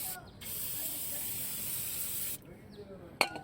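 Aerosol spray can hissing onto Volvo 940 front brake parts during a brake overhaul, one long steady close burst of about two seconds, then a short pause and a brief sharp clack.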